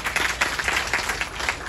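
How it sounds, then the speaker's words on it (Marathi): An audience at a stage event in Nagpur claps to welcome a guest, a dense, steady patter of many hands applauding at close range without a pause. "त्यांचे आपण टाळ्या वाजून स्वागत करूया"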